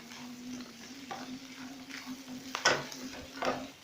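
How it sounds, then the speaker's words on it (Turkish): Olive börek filling with walnuts and pepper paste fried and stirred in a pan, a steady soft sizzle with scraping stir strokes and a couple of louder clinks near the end, no talking. "yaklaşık 5 dakikadır İç harcımızı kavuruyoruz"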